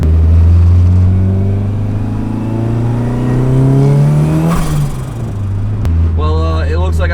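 A modified car engine fitted with new cams revs loudly up close, its pitch climbing and sagging over several seconds before dropping off sharply, and a voice comes in near the end.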